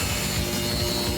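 Makita saw cutting a motorcycle fuel tank, giving a short, steady, continuous grinding rasp at close range with no pauses.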